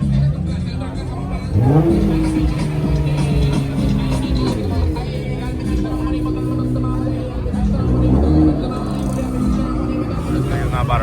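A car engine revs hard in a few loud, rising pulls with a steady engine drone in between, while people chatter nearby and a crowd murmurs in the background.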